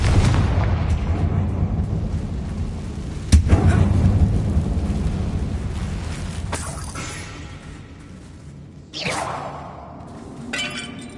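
Confringo fire spell explosions in Hogwarts Legacy burst with a sharp crack followed by a rumbling roar, then a second blast later, loud against continuous game ambience.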